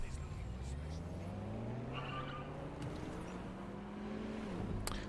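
A car in the video game Watch Dogs Legion drives and skids, with engine whine and a short tire squeal near the end. Game sounds play throughout at moderate level.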